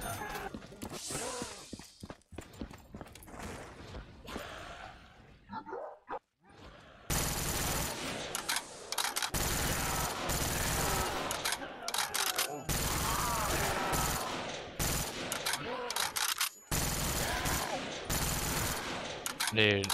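Rapid gunfire bursts from Black Ops 3 custom zombies on the Frozen Forest map, loud dense volleys with short gaps, and a voice talking over them.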